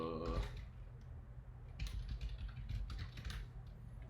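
Steady clicking of keys on a computer keyboard as an address is typed into a property search, a continuous run of quick, close taps with some louder keystrokes.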